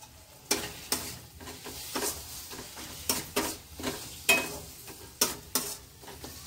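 Egg tarka masala, Bengali dhaba style, being stirred and fried in a pan: steady sizzling under a regular rhythm of scraping spatula strokes, about one every half second to second, close and fairly quiet.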